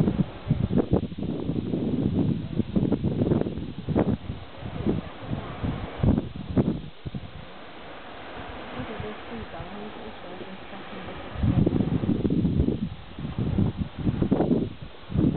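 Gusty wind buffets the microphone at Boulders penguin beach, rising and falling in strong rumbling bursts with a calmer lull in the middle. Intermittent background noise mixes in.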